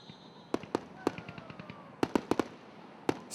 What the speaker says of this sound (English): We had fireworks.